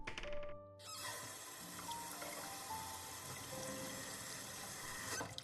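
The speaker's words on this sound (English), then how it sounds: "As the cold water splashes my face" Cold water splashes and runs in a visual novel game, a short bright burst followed by a steady wash of water that continues for several seconds.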